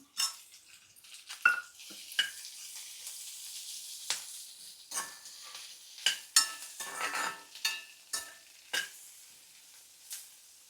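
Mashed boiled potatoes and fried onions being stirred in a pan for oats masala dosa filling, with repeated scraping clatters of a spoon against metal over a soft frying sizzle, no talking.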